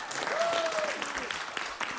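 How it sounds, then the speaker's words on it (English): A small audience at a Christmas Eve saxophone livestream performance gives a faint, steady round of applause, with a voice briefly sounding over it. "let's, one more round of applause for Mr."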